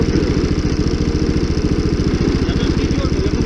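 Small engine started at minus 40 degrees in frosty taiga, idling steadily up close with an even, rapid chugging pulse that holds for the whole stretch.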